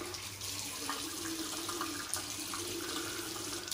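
Water running from a tap into a sink while preparing shaving lather, a steady close splashing rush that continues throughout with small irregular spatters.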